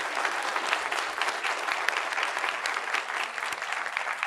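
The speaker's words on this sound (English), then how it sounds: "let's just give them a preemptive round of applause for showing up" Audience applause at an advocacy talk session, dense steady clapping from a room full of people, loud and continuous with no speech over it.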